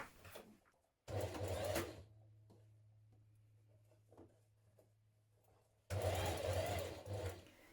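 A sewing machine stitches a seam on a knit top in two short bursts of rapid whirring, separated by a quieter stretch with a low motor hum.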